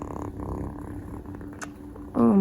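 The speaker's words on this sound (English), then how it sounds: "She's purring." A kitten purrs up close in a soft, low, continuous rumble, and a voice briefly cuts in near the end.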